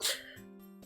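A single quick cat sneeze bursts out at the start, sharp and breathy, then fades into quiet room tone.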